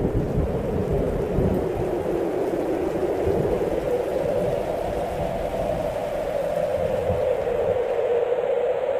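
Summer thunderstorm with heavy rain, a loud steady roar of downpour over deep rumbling, with a droning wind-like tone running throughout and no voices.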